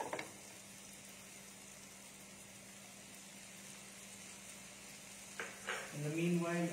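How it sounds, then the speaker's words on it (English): Cauliflower frying in a non-stick pan gives a steady, soft sizzle that holds faintly and evenly throughout, with a few louder clatters and a brief burst of voice near the end. "You see the cauliflower started cooking. You see the noise, you can hear the noise"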